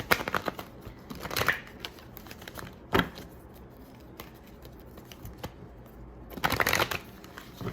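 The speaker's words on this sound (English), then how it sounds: "I'm going to take the same deck and shuffle it" Cards being shuffled up close: quick riffling bursts and crisp flicks, with short pauses between shuffles and no talking.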